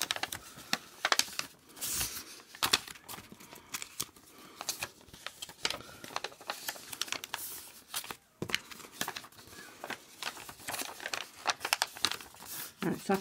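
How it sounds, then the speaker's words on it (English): Paper envelopes being folded and creased for a gatefold album, giving rapid crinkling, rustling and sharp paper snaps close up, fairly quiet and continuous, with some soft speech underneath. "I'm just going to fold all these envelopes down this way."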